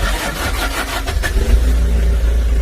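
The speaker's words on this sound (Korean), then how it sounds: "시동 한번 걸어보겠습니다." Used LS 45-horsepower tractor engine cranking and catching, settling into a steady low diesel rumble with a brief rev, heard close and loud with no talking.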